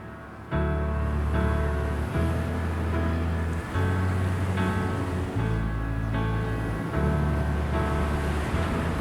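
Atlantic surf rolls in below steep cliffs on the wild Vicentina coast at Ponta da Atalaia, a heavy, continuous wash of breaking waves with low rumbling surges, close and loud with some wind.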